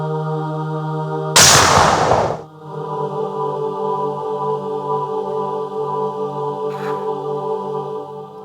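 During a Raju Srivastav stage comedy sketch, one loud, sharp gunshot-like blast bursts out over steady musical tones and fades within about a second.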